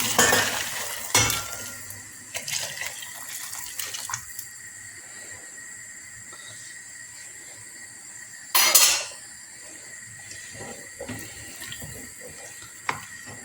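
Boiling water is poured into a pot of green lentil soup, a close splashing pour with a brief louder gush midway, over quiet kitchen clatter and no talk.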